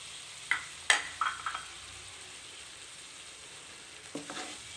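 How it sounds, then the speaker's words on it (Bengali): Spice paste with dry chili powder frying in a pan for prawn malaikari, a few soft sizzles and stirring scrapes over a low, quiet background. "এখন মশলাটা অনেক সুন্দর করে কষাইতে হবে।"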